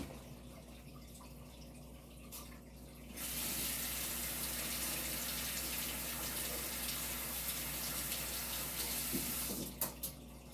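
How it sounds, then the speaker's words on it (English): A tap runs into a sink to rinse a paintbrush, a steady, close, hissing stream of water that starts abruptly, flows for several seconds, then cuts off with a few splashes and drips. "I'm going to rinse it off and then do the red on the turkey."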